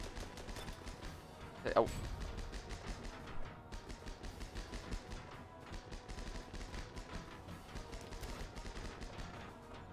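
Machine gun fire in the tank-crew game Armored Battle Crew, rapid bursts and gunshots rattling steadily through a battle scene, with one louder thump early on and people talking over the noise.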